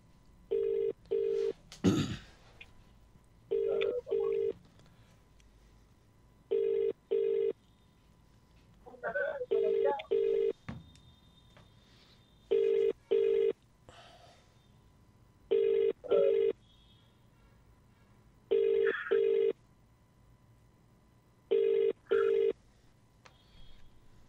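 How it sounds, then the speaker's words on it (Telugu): A telephone rings on a call during a Telugu radio entertainment show, giving repeated paired ring bursts spaced evenly several seconds apart, clear and steady over a quiet background. "రింగ్ అవుతుంది రింగ్ అవుతుంది నాకు"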